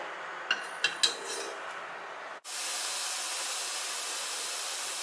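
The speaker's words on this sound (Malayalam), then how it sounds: "ഇപ്പോൾ ആവി പുറത്തേക്ക് വരാൻ തുടങ്ങി." A pressure cooker clinks lightly a few times before steam suddenly bursts from its nozzle into a loud, continuous hiss that holds steady to the end.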